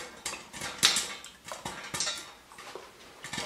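A pot of homemade popcorn is shaken on the stove, giving a series of rattling metallic clatters and scrapes in uneven bursts, fairly close and moderately loud.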